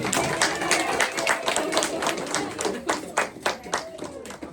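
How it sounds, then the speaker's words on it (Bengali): A group of people clap loudly together at an indoor get-together after a shared lunch, a fast dense round of hand claps that thins into a few separate, sharper claps at the end. "সবাই আমরা একটা জোরে করতালি দেই"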